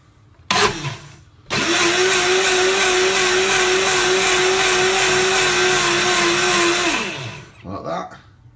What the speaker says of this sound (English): the next step is we're going to blitz it up. So it's in the blender.